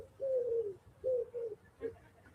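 A single pigeon coos outdoors in a quiet, eerie setting, a drawn-out coo followed by shorter ones, fairly close and alone.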